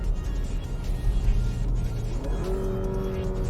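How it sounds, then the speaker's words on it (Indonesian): Porsche Macan entry-level engine in Sport Plus mode, a close steady engine drone whose pitch shifts partway through as the gearbox changes gear. "kalau di Sport Plus suaranya ada gitu tuh pas perpindahan gigi, jadi aura sport ini lebih berasa"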